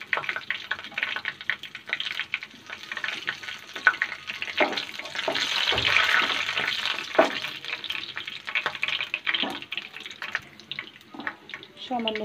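Whole spices such as bay leaf, cardamom and cloves sizzle in oil with fried onions in a pan, a close crackling fry with clattering stirring strokes and a watery surge midway, without talk.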